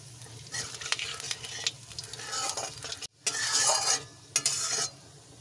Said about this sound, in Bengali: একটা গোটা শুকনো লঙ্কা। এখানে আছে আমার এলাচ, দারচিনি, লবঙ্গ আর একটুখানি ফুল, এটা আমি ফোড়নে দিলাম।